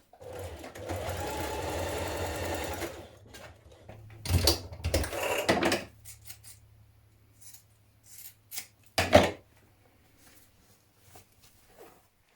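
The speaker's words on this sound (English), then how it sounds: "Fold each underlap on the fold line down the centre and stitch across the top." A sewing machine stitches across the top of a dungaree underlap in a steady whirring run. After a pause come two short bursts, then a brief clatter, with quiet gaps between.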